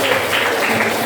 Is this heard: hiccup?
no